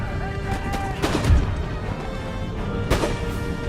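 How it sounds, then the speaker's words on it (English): Artillery in the Empire: Total War video game fires shrapnel shots, with a few heavy booms and crashing impacts over a dense battle din that runs throughout. "We're going to switch over to shrapnel shots."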